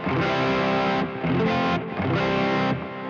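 Electric guitar played through a Soldano Super Lead Overdrive pedal on its own with no power amp, giving heavily distorted, saturated chords in three sustained strums with brief dips between, loud and close.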